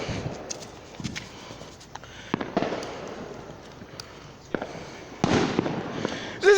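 Fourth of July fireworks pop and crackle in scattered bursts at a distance, quiet sharp reports over a rough outdoor background, with a few louder cracks toward the end.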